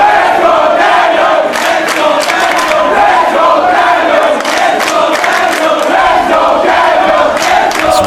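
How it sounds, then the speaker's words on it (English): A rabid wrestling crowd at a Steen versus Daniels match roars in a continuous loud wall of cheering and shouting, with sharp claps and hits cutting through the din. "This rabid crowd in this matchup from the opening bell."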